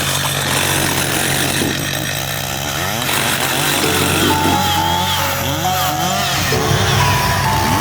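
Saw cutting through the trunk of a Christmas tree, a steady loud buzzing drone that runs throughout, shifting pitch partway as the cut progresses.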